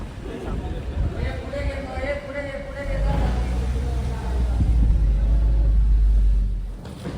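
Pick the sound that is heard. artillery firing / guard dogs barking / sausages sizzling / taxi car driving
taxi car driving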